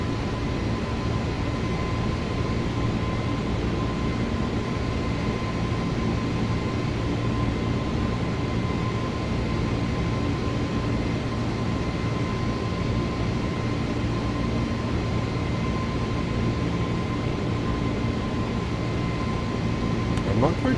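Steady roar of iniBuilds A320neo jet engines at climb throttle in Microsoft Flight Simulator, a continuous broadband drone with a faint tonal hum that holds evenly throughout.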